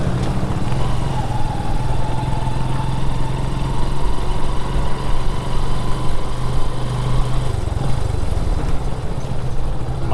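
Motorcycle ridden over a rough road near Labo, Camarines Norte, its engine droning steadily and loudly throughout with constant low rumble and road noise, no voices.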